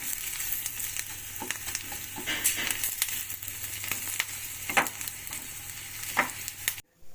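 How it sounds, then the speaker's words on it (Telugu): Onions fry in a pan with a steady sizzle, punctuated by repeated scraping stirs and occasional louder crackles, close up with no talking. "ఉల్లిగడ్డలు ఇట్లా ఫ్రై చేసుకున్నానండి"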